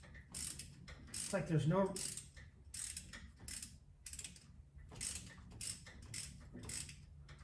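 A Ford 351 Cleveland V8 is turned over by hand with a ratchet, giving repeated clicking ratchet strokes in an uneven rhythm, close up, with a brief creak and a short spoken remark.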